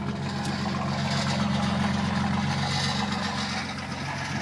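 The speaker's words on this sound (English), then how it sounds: "It's got a heat shield rattling." 1992 Chevy S10 idling with its exhaust rumbling steadily and a rattling heat shield, a continuous low droning engine tone with a faint metallic buzz on top, close and even throughout.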